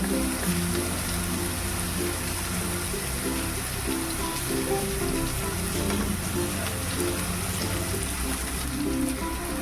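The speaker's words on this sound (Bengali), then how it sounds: "নিয়ে এবার আমি পটল পেস্টটাকে দিয়ে দিচ্ছি" Pointed gourd paste frying in a pan, a constant crackling sizzle like rain on a surface, steady and close with faint stirring underneath.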